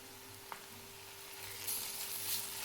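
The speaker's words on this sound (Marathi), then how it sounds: "कांदा 2 मिनिट तेलामध्ये भाजून घ्यायचा आहे." Onion frying in oil for a Maharashtrian dal kanda gives a soft, steady sizzle, with a faint tap early on and brighter crackling bursts swelling toward the end.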